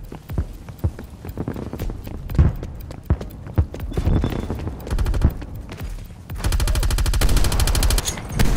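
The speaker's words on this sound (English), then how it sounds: "VIP under fire." Bursts of gunfire in Call of Duty: Black Ops Cold War, sharp repeated shots and a sustained rapid burst near the end, loud and close amid game sound effects.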